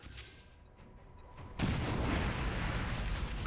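A grenade explodes in XCOM 2. After a quiet start, a sudden loud burst lands and rolls on as a broad, rumbling roar for the rest of the clip.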